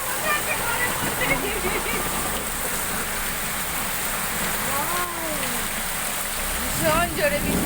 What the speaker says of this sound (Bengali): ভীষণ জোরে বৃষ্টি এসেছে